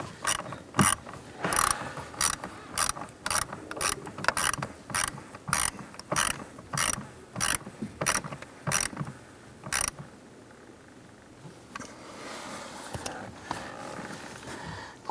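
Ratchet tightening bolts on a 2006-2013 Chevrolet Impala heater blower motor: close, sharp ratcheting clicks in quick repeated strokes for about ten seconds, then quieter handling noises.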